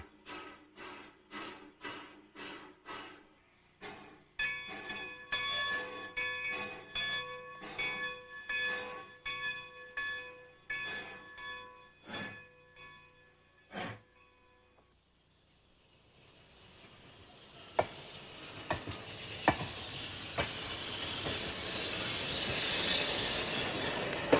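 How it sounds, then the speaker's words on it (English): A Nevada Northern train backing onto an old siding: a steady series of rhythmic clanks and metallic ringing tones, then a broader rolling rumble with a few sharp knocks as the cars move. "the train begins to back up onto the old siding"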